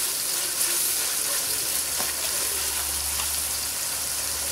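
Sliced potatoes dropped into hot oil in a pan and stirred, giving a soft, steady frying hiss with a few faint scrapes and a low hum underneath.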